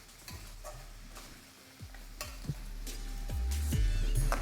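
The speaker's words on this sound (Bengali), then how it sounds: "তখন এখানে দিয়ে দিন পেঁয়াজটা। ব্যাস তারপর এটাকে ভালো করে ভাজতে থাকুন।" Onions frying on high flame in a pan for Kolhapuri chicken, with a steady sizzle and scattered stirring scrapes and clinks that grow louder toward the end, close and without talk.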